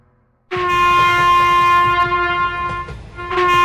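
A train horn blares suddenly and loudly after a moment of near silence, holding a long steady blast over the rumble of the passing train and then sounding again near the end.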